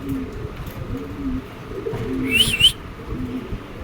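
Pigeons, including racer, Mundian and Danish breeds, cooing in a low, repeated warble, several soft coos in a row with a brief higher chirp partway through.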